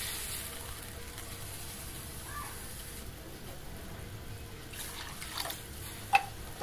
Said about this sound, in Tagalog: Siyempre, lalagyan natin siya ng tubig.